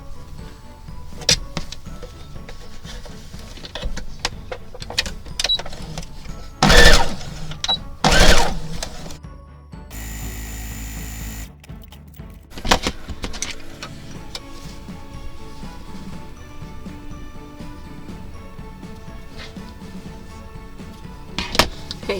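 A home sewing machine stitching garment pockets runs in short bursts with fabric handling between them, including two brief louder runs and a steadier whirring stretch, close by and moderately loud.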